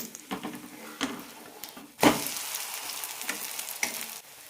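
A ragi flour bun dosa fries and sizzles in a pan just after being flipped, with a sudden surge of hissing as it lands and a few light scraping taps.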